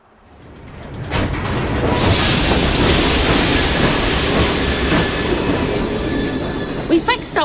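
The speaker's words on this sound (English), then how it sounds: "We fixed up the train for you." Train rumbling in the video game Assassin's Creed Syndicate, a steady loud rolling roar with faint clatter that swells in over the first two seconds and holds, with a few brief knocks near the end.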